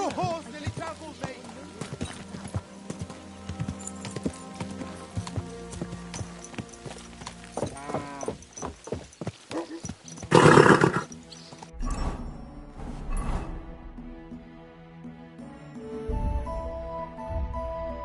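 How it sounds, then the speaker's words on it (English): Video game horse hooves clip-clop past with a neigh, loud and close, while in-game character voices talk over the galloping. "Your horse nearly trampled me!"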